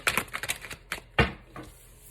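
Tarot cards being shuffled by hand, a run of crisp riffling snaps and flutters with one sharper slap partway through, close and fairly quiet with no talking.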